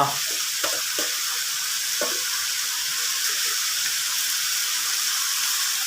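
Bean sprouts, tofu and fish strips being stir-fried in a pan give a steady, close sizzle throughout, with a few light scrapes and clicks of the utensil against the pan.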